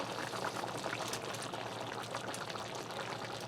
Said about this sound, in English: allow this to reduce a bit and thicken up into a gravy